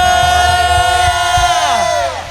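A church congregation in an Indonesian Pentecostal worship service shouts and cheers hallelujah together, a loud, sustained crowd roar that fades near the end.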